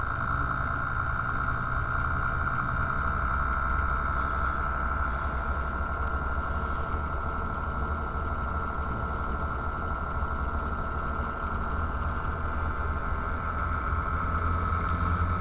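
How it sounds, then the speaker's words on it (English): A 24-volt attraction motor without permanent magnets runs at full power, giving a loud, unbroken droning hum with a steady whine throughout and no voices. "So right away, you could kind of hear the difference. The motor is much, much more powerful now."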